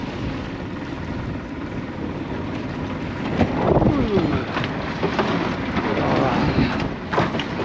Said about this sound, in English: the boat is coming from this direction